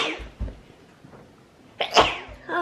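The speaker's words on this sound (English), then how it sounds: "I feel a sneeze coming." A single close sneeze bursts out with a short breathy intake beforehand and a sharp loud release, followed by quiet room tone.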